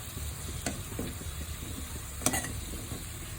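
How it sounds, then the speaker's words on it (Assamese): Goja pastries fry in oil over a low flame, giving a soft, steady sizzle with a few brief scraping stir sounds. No one speaks. "গজাখিনি এয়া একদম কম জুইত লৰাই একদম ৰঙচুৱা জোখতকৈ ভাজি ল'লোঁ।"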